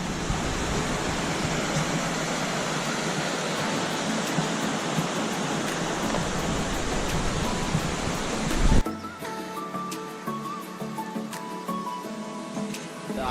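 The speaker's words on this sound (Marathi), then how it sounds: "माझ्या मागे नदी वाहते, पाऊस चांगल्या मोठ्या प्रमाणात आहे इथे बघा तुम्ही।" A river rushes in the rain during a jungle trek, a loud continuous roar of flowing water that cuts off abruptly and gives way to quieter rain and soft ambient noise.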